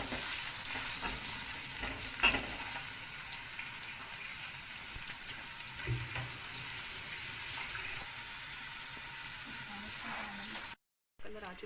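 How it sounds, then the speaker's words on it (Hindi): Onions frying in half a cup of hot ghee for dhaba-style daal mash, a steady close sizzle with occasional stirring scrapes and clinks throughout. "आधा कप घी गरम करके उसमें हम प्याज शामिल करेंगे।"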